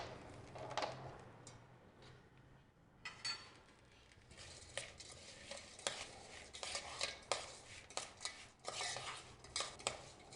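Chopped jaggery being stirred into a spice mix in a cooking pot, with scattered scraping and clinking of a spoon against the metal, irregular and fairly close.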